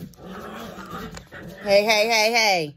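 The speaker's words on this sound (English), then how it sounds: "If you hear any rumbling in the background, that will be the puppies." A person speaks briefly, then a puppy lets out a high, drawn-out whimper close by.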